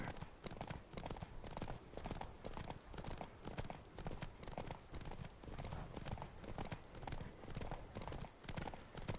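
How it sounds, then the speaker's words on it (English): Horses' hooves clip-clop in a steady, busy rhythm in The Witcher 3 video game, close and fairly loud, with faint voices now and then. "We gotta take this convoy of fucking horses."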